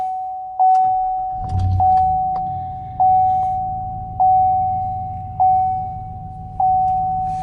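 A Chevrolet Silverado 1500 pickup is started with a key: a steady warning chime pulses about once a second, a short crank comes early, and a low engine idle rumbles on beneath the chime.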